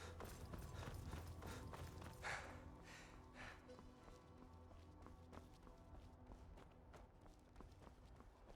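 Horse hooves clip-clop at a steady trotting rhythm in modded Skyrim, mixed with game music and ambience; the hoofbeats are loudest early on, then settle into a softer, continuous patter.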